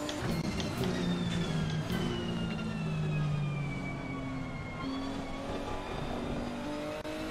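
A race car engine held at full throttle on a wet Silverstone track in Assetto Corsa Competizione, a steady loud drone with rising and falling whining tones throughout.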